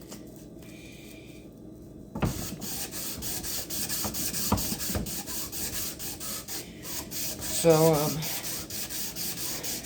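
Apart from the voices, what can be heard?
sanding custom axe with 220 grit sandpaper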